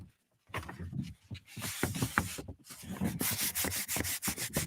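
Rubbing the smooth side of a sheet of HS Ink Tacky sublimation paper produces a steady run of soft, close, papery swishes and scrapes that grow denser and brighter toward the end, with no voices.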